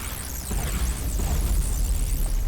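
Explosions in a tower defence video game, a sustained deep rumbling roar with dense low booms that continue without a break through the whole stretch at fairly loud level.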